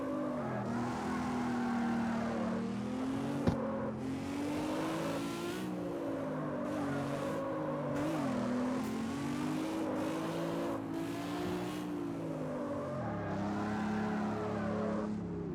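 A car in the CarX Street street-racing game drives with a close, continuous engine drone that rises and falls through revs and gear shifts, with no talking.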